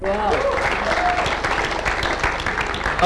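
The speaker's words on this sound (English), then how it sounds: "A round of applause, guys." Applause from the crowd at an awards event honors a contest winner. Dense clapping sounds throughout, mixed with voices and cheering.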